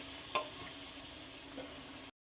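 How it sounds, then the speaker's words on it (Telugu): Chicken with ginger-garlic paste sizzling in a pan while being mixed, a soft steady frying hiss with a single sharp clink early on, faint and close, no talking. "చికెన్ వేసిన తర్వాత ఇలా మొత్తం కలిపేసుకోవాలి."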